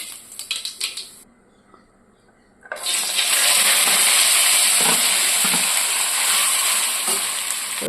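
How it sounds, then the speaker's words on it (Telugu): Boiled cluster fig pieces drop into hot oil with mustard seeds in a pan, setting off a loud, continuous sizzle close by that follows a few light clatters and a short quiet gap. "ప్యాన్ వేడి చేసి నూనె వేసుకొని ఆవాలు పిలుకలు వేసి వేగిన తర్వాత ఉడికించిన మేడి ముక్కలను వేసుకొని"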